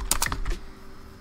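Brief, quick burst of computer keyboard keystrokes, a few crisp clicks close to the mic, then fading to quiet room tone.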